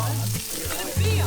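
Thin steaks sizzle loudly and steadily in a hot pan, a dense close-up crackle lasting the whole moment, with a faint low hum underneath.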